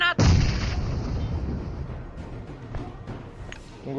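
A grenade blows up in the mobile shooter PUBG Mobile: one sharp, loud boom that fades into a rumbling tail, followed by scattered smaller pops and clicks, with no talking over it.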